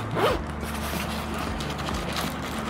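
A bag zipper pulled open or shut at close range, a quick ratcheting zip near the start followed by softer fabric handling and small rustles.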